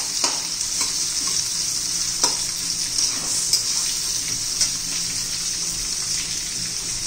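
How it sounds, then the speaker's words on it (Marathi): Constant loud sizzle of onion frying in oil with cumin and mustard seeds for an onion and capsicum vegetable dish, with occasional stirring clinks and small pops throughout, no speech. "जिरं मोहरी तडतडली की कांदा घालायचा आहे"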